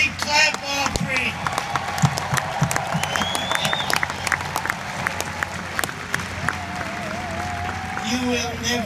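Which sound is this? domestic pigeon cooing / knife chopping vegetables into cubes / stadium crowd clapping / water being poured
stadium crowd clapping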